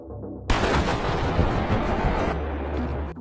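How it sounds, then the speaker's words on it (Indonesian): Gunfire from a film scene: after a quiet start, a dense, loud barrage of rapid shots and booming reports rolls on continuously for several seconds, with no talk. "Samir melepaskan tembakan biar kelihatan real"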